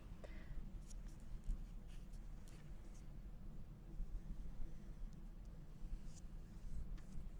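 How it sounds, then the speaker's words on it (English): A pencil traces around a circle template on craft foam, giving soft, close scratchy strokes that repeat in short bursts over a quiet background. "go ahead and put the circle template on your foam and go ahead and trace that around with your pencil"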